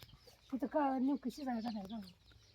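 A chicken clucks in a rising and falling series of calls, close by, with faint background noise.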